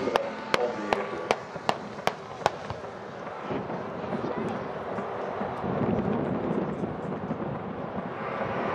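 At an airshow airfield display, simulated enemy gunfire rings out as a quick series of sharp, distant cracks in the opening seconds. Steady wind and rumbling engine noise follow, and no one talks.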